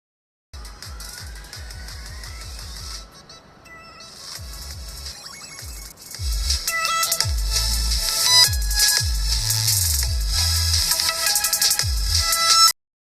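Music plays from an Android phone through the Viper audio mod, with boosted volume, bass and reverb. It is loud and bass-heavy, and it grows fuller and louder after a quieter opening few seconds.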